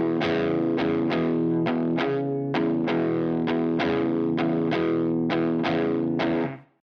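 An electric guitar plays a classic blues riff with distortion and palm muting, a series of tight, evenly spaced chugging chords ringing loud and close before stopping abruptly.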